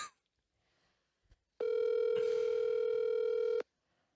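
A telephone on speaker sounds a single steady ringback tone for about two seconds, loud and continuous, with near silence before and after.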